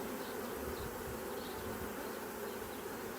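Honeybee swarm clustered up in tree branches, a steady dense buzz of many bees fanning, continuous and close with no talking.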